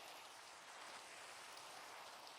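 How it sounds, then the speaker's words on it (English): Minecraft rain falls as a steady, soft hiss, even and continuous from start to finish with no other sounds. "Beautiful rainy ambience outside."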